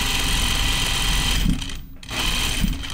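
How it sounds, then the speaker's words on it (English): A home sewing machine stitches an Azara skirt, its thread running with a slightly off sound. The motor whirs steadily and close, pausing briefly partway through before starting up again. "I don't like the way this thread sounds in my machine."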